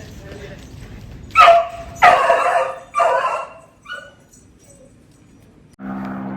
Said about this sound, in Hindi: ये है लियो लैब्राडोर